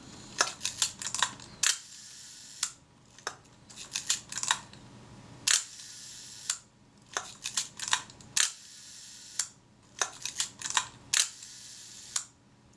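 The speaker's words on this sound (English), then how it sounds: "Just checking the action of the film advance and the shutter release" Reflex S camera with its film advance being worked and shutter released repeatedly, giving sharp close mechanical clicks and ratcheting bursts in a steady repeating cycle, no voices.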